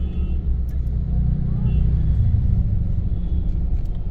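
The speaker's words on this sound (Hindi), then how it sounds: "आप देखिए जहाँ तक भी दिखाई दे रहा है जाम ही जाम है।" Dense traffic jam on a Dehradun road, a continuous low engine rumble of idling and creeping cars and buses heard from inside a vehicle, with faint distant horns and a voice speaking over it.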